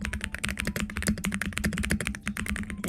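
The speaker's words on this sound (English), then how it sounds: "got a new keyboard. It's very clicky clacky." Fast, steady typing on a new clicky mechanical keyboard, a dense stream of sharp, close key clicks and clacks with no pauses or speech.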